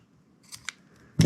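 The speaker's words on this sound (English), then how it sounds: "Grab my scissors, find that melted spot," Scissors snip slightly melted paracord: two small clicks as the blades open and position, then one sharp, close cut at the end.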